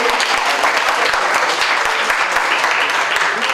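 At an academic social sciences event, an audience claps loudly and steadily, a dense burst of hands with individual claps standing out near the front.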